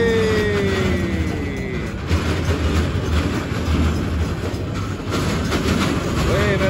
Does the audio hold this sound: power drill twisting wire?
no